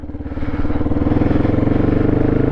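A Polaris Predator 500 quad bike engine runs steadily while being ridden outdoors in Sweden, a close, loud, throbbing rumble with a lumpy idle-like pulse that builds slightly in the first half second and then holds level.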